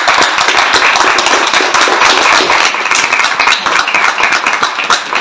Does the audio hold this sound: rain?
no